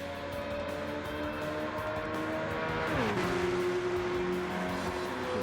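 A Toyota GT-One race car engine in Gran Turismo 7 drones at high revs, then drops pitch as it shifts and settles into a steady, slightly lower whine, loud and continuous without voices.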